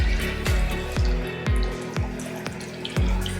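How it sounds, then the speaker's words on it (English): Butter melting in a pan and bubbling hard as its water cooks off, a busy close crackle and sizzle with repeated sharp pops over a steady hiss, no talk. "See how that's bubbling violently? That's all the water leaving the butter."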